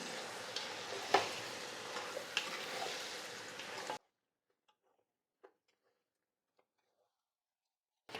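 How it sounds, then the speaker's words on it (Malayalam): Biryani masala with yogurt and salt stirred in a pan on high flame, a busy sizzling scrape for about four seconds that cuts to near silence, broken only by a few faint ticks. "ഇനി ഇത് നല്ലതായിട്ടൊന്ന് ഇളക്കി കൊടുക്കാം"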